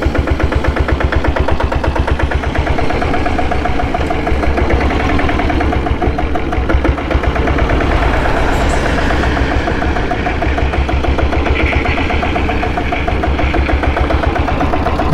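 A Royal Enfield Diesel Bullet motorcycle engine runs steadily up close, a loud, rhythmic low thumping idle that holds for the whole stretch with no talking.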